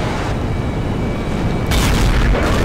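Tank cannon firing in a tank battle game involving an IS-8, a loud deep boom that holds steady, with a second heavier blast hitting near the end, no speech.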